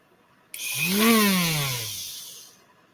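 A small, old, worn-out Dremel rotary tool with a sandpaper attachment whirs up sharply, its pitch rising then sliding down as it winds off, loud and close, alone.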